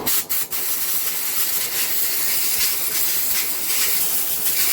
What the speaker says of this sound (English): you know me and my WD-40, we're just going to give all the bearings a squirt